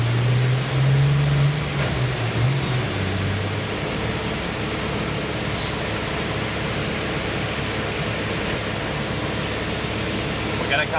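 A GT-R engine swapped into a Datsun 240Z runs hard on a dyno, making a loud, steady mechanical roar that holds throughout, with a low droning tone in the first few seconds.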